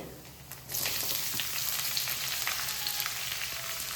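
Onions and chopped cashews frying in hot oil with coconut pieces, a steady close sizzle that swells louder as the onions go in, with faint stirring clicks.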